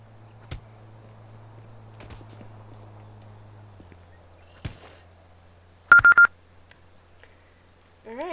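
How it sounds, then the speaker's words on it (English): Video game incoming medical call alert in an EMS setting, a short burst of rapid beeping tones standing out against faint background hum and a few scattered thumps, followed by a rising warble. "that noise you just heard is a medical call coming in"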